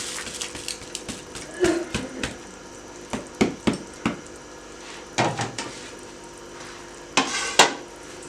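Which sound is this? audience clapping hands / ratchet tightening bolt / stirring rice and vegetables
stirring rice and vegetables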